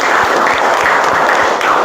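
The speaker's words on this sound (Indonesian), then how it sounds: "Sekali lagi aplaus untuk kita semua." A class of students in an Indonesian teacher-training lesson applauds together, a steady, loud wash of many hands clapping close by without pause.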